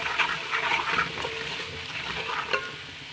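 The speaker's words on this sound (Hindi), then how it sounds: "राई दाना, कलौंजी, इसको हम थोड़ा सा भून के इसमें हम दही डाल देंगे" Mustard seeds and nigella seeds fry in a pot with an even crackling sizzle, punctuated by small pops and the scrape of stirring, close and moderately quiet.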